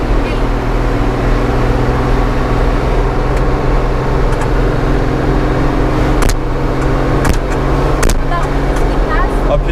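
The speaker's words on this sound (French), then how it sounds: "je conduis le camion maintenant." A fire truck's engine runs steadily while the truck is driven, a loud continuous low rumble throughout, with a few sharp knocks and rattles near the end.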